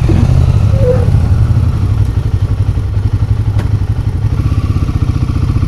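A KTM motorcycle on the road, its engine giving a loud, steady, rumbling pulse close by for the whole stretch, with wind roar and no talk.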